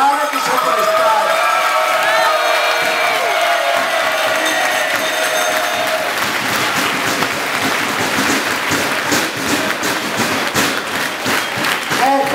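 Audience at the Palio San Giacomo giving the race judges a long burst of applause, dense clapping over crowd murmur and a few shouts, with a voice speaking over the start.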